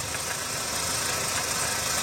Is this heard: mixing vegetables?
no